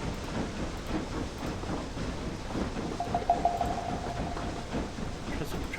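Train in the video game Book of Travels, a steady rumbling, clattering rail noise with hiss and a brief whistle-like tone midway, moderately loud and continuous.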